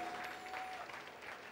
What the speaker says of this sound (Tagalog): Palakpakan natin si Lord